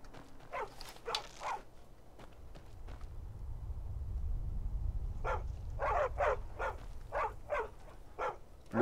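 In the video game Skyrim, a dog barks in short, sharp bursts: a quick cluster first, then a longer run of repeated barks after a low rumbling pause. No one speaks.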